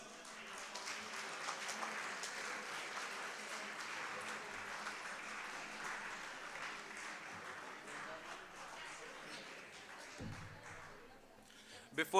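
An audience at a medical college physics event gives a long round of applause, a dense, even wash of clapping from many hands that holds for about ten seconds before tapering off with a few close knocks.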